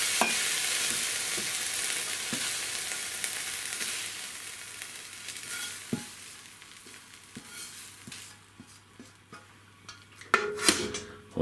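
Crispy baby corns are scraped out of a pan into a dish with the heat off, a fading sizzle under soft clinks and scrapes of the utensil against metal, then louder clatter of the dish near the end, no voices.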